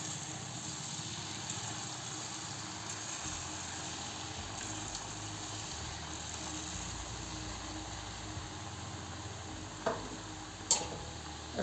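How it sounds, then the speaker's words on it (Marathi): Chillies fry in hot oil over a low flame, a constant soft sizzle with occasional stirring and a couple of sharp clicks of a utensil near the end, with no talking. "आपलं तेल गरम झालेलं आहे. यात आपण मिरच्या तळून घेऊ"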